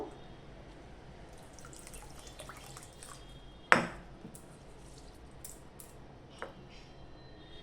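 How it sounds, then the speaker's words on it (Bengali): Rice is rinsed in a bowl with the water changed again and again, giving soft faint drips and splashes, one sharper clink or splash partway through and another later, with no speech. "জল পাল্টে বারে বারে আমি ধুয়ে নিচ্ছি, যতক্ষণ না জলটা পরিষ্কার জল না বেরোয় ততক্ষণ পর্যন্ত আমি ধুয়ে নেব"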